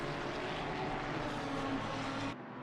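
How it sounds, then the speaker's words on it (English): A Lamborghini V10 race car engine roars in Assetto Corsa Competizione at Mount Panorama, a steady, dense mechanical drone heard from a distance before cutting off abruptly near the end. "Can hear that Lamborghini from so far away."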